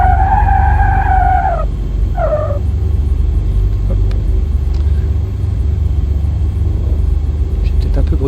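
Aircraft braking to a stop on the runway in X-Plane 11, with a Beechcraft Baron 58 simulated: a steady low engine rumble runs throughout, with a loud tire-skid squeal in the first two seconds, then a shorter squeal.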